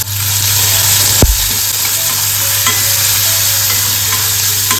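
Onion, curry leaves and garlic sauté in a pan with a steady, loud sizzle that fills the whole stretch, broken by one sharp stirring knock early on; no voices.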